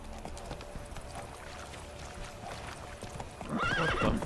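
Roach, a horse in The Witcher 3, trots with steady clip-clop hoofbeats under game ambience, then lets out a loud, close whinny near the end.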